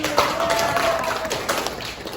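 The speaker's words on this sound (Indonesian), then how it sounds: "Dikasih tepuk tangannya buat Tadi." Classroom audience claps briefly in a short burst of light, fairly close applause during a microteaching session, with some voices mixed in.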